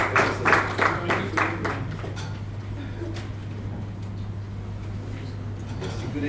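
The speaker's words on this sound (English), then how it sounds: "Please give him a round of applause." Audience applause for a presenter at a seismic reservoir characterization talk, a burst of clapping that fades quickly within the first few seconds, over a steady low room hum with faint murmuring afterward.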